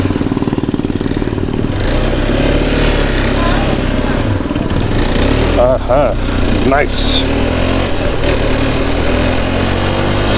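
A 2022 KTM RC390 motorcycle engine hums and revs steadily while riding, joined by wind rush, with someone talking over it throughout.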